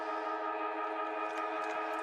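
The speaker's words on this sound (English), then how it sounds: "As the siren sounds for half-time here at TIO Stadium" Half-time siren at TIO Stadium during an NTFL men's Australian rules football match, Darwin Buffaloes against Nightcliff, a steady sustained tonal wail held without a break, moderately loud against faint crowd noise.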